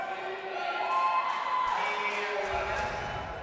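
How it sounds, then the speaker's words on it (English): Eagle Beavers fans in an arena crowd chant loudly and steadily during a live sporting event, a dense roar of voices held at a constant level throughout. "the Eagle Beavers contingent in the crowd is chanting very loud right now"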